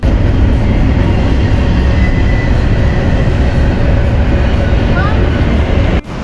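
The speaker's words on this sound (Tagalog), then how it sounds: "kita nyo naman may dumaan ng train" A long train rolls past along the Columbia River Highway in Oregon, making a loud, continuous rumbling roar close by that stays steady throughout and cuts off abruptly at the end.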